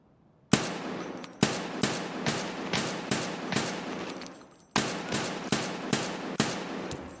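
Gunfire in Escape from Tarkov comes as two long, loud bursts of rapid automatic shots echoing with reverb, split by a brief gap, without talk.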